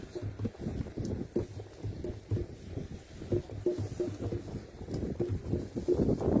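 Gusty wind on the island of Balliceaux buffets the microphone in steady rumbling waves, close and fairly loud, with no speech.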